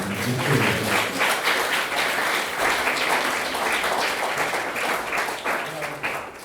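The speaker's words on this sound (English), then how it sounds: "we can applaud him for that" An audience at Leeds Central Library applauds a speaker in a dense, continuous wash of clapping that holds steady for several seconds, with faint voices mixed in.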